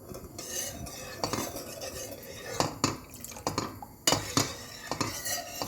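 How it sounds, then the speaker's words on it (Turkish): A spoon stirs sugar syrup for a semolina cake in a pot, giving intermittent scraping and clinking strokes against the metal over a steady background hiss, with no talking. "Artık aralıklarla karıştırıyorum."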